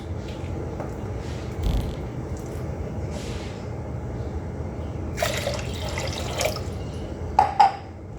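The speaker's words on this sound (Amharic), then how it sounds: "ያው ውሃውን እየለካው ጨምረው" Measured water being poured in while making creme caramel: a soft, steady trickle with a few brief splashy bursts toward the end, fairly quiet and close.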